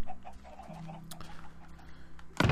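Chickens in the Minecraft video game give a few short, soft clucks spread through the clip, with a steady low hum underneath and a brief louder burst right at the end.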